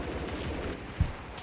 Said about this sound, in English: There's like a full-on firefight happening below me, it sounds like